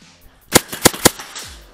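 Airsoft guns fire outdoors at a game, three sharp, loud cracks about a third of a second apart followed by a few fainter pops and faint background noise.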